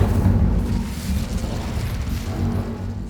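The Incendio fire spell cast in the Hogwarts Legacy video game, a loud, rumbling whoosh of flame that roars steadily for a few seconds without fading.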